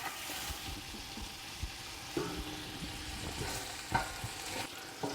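Pieces of meat for couscous brown in a pot with a steady, fairly quiet sizzle and crackle, broken by a few soft stirring scrapes and knocks as the meat is turned.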